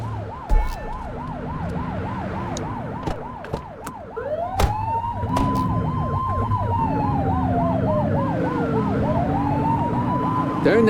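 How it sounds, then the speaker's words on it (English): A video game police car siren, The Precinct, wails and cycles rapidly up and down with a second slower wail sweeping over it, loud and continuous over a low engine rumble, with no talking. "Turn that siren off."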